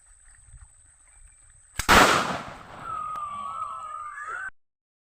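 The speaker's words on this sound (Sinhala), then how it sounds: "අපි දැන් මේක මේ වෙඩිල්ල අලියා කරන ක්‍රියාවම මම කරවලා පෙන්නන්න දැන් මේ වෙඩිල්ල පුපුරන හැටි." A firecracker gadget used to scare elephants bursts with one sharp, loud bang, followed by a few seconds of crackling fizz and a rising whistle-like hiss before cutting off, with no talk over it.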